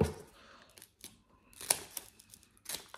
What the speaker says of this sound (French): Ça se coupe tout seul, les ciseaux.